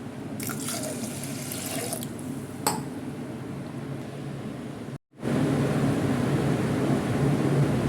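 Water pours steadily into a pot of kodo millet for pongal with a continuous rushing splash, briefly stops, then resumes louder; a clink sounds early on.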